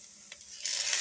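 Bitter gourd and small shallots sautéing in oil in a pan, a soft sizzle under quiet stirring scrapes that swells into a brighter, louder hiss partway through, close by.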